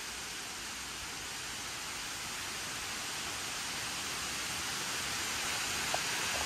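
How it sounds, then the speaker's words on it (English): Steady, dense hiss of a heavy rainstorm, a continuous wash of rainfall without breaks that grows slightly louder toward the end. "we got a little bit of a rainstorm going on right now"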